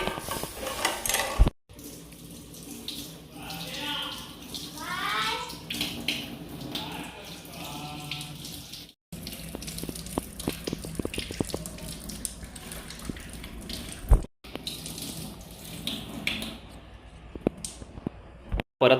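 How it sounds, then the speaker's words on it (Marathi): Water poured into a pot while cooking a Konkan-style mud crab curry, a steady splashing and trickling stream running through most of the passage, with some clinking of metal cookware around it. "त्या बघा आता पाणी त्याच्यात वतता"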